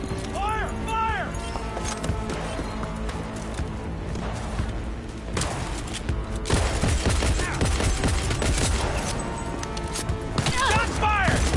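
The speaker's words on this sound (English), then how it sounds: "Shots fired!" Scattered bursts of gunfire in the game Cyberpunk 2077, loud cracks and volleys mixed with busy combat noise while voices shout throughout.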